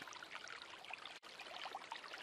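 Water is squeezed out of a filter bag outdoors on a hike near Capitan Peak in Lincoln National Forest. A soft, steady hiss of streaming water pauses briefly, then continues. It is close and quiet, with no talking.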